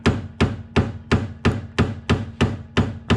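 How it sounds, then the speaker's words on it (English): Nine sharp metallic hammer strikes on a flathead screwdriver, working on a BMW E36 sedan, land at an even, steady rhythm, loud and close, each ringing briefly before the next. "as I'm hammering it, it actually is sliding up"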